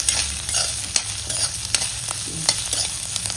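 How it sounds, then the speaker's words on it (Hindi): Green chillies and onion fry in a pan with a bright continuous sizzle, punctuated by irregular clicks and scrapes of stirring, close up with no talk. "जरी देर भूनना हरी मिर्ची को, प्याज को।"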